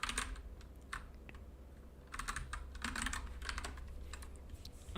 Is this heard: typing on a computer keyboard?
yes